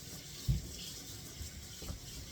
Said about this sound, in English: now I'm going to rinse off that side and dry it off so you can see.